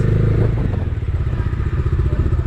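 A Bajaj Dominar 250 BS6 motorcycle is being parked, its engine giving a loud, close, throbbing low rumble with a few clattering thumps and no talk.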